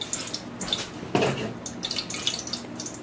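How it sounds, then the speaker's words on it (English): Hot dandelion-infused oil is poured, likely ladled, giving a brief liquid splash and gurgle near the middle, with soft dripping and trickling before and after at close range. "I'm going to gently pour my oil"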